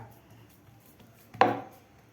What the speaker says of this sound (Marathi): तर व्यवस्थित आपल्याला हे पातळ असं थापून घ्यायचं आहे